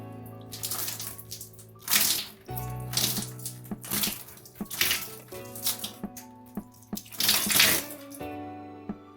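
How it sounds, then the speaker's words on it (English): Running water rinses a limescale-stained shower head, a steady wash of spray with uneven splashing bursts that swell and fade across the clip, close and fairly loud. "I am going to rinse the shower head"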